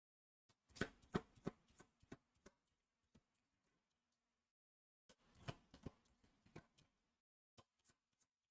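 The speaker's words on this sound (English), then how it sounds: "These 4 get shuffled into the Cytodiil encounter" Encounter cards for an Elder Scrolls tabletop game session are shuffled by hand in two close, crisp bursts of riffling and tapping, separated by a brief quiet pause.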